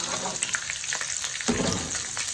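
Chicken malai sizzles and fries in a pan, a steady crackling hiss with stirring scrapes and a louder burst midway, close and continuous.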